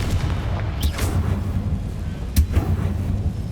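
Confringo blasting spell explosions in Hogwarts Legacy, deep rumbling booms over a constant low roar, with two sharper bursts standing out, loud and close.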